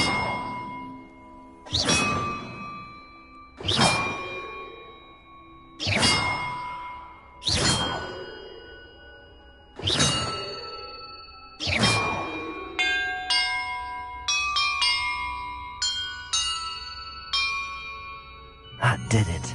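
Bells in a Hogwarts Legacy puzzle ring one at a time, six loud clanging strikes evenly spaced and each ringing out, followed by a quick run of brighter chiming tones.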